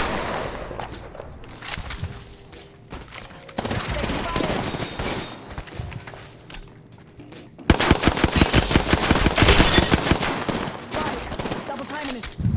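Rapid automatic gunfire in the Apex Legends video game, dense bursts of shots that keep going and grow louder and busier toward the end, with little speech over them.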